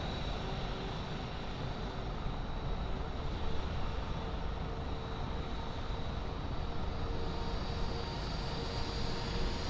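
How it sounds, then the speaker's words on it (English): Jet airliners departing Aruba in the early morning give a steady, distant roar of engines that swells slightly without breaking, with no voices over it. "it's a bunch of American jets flying"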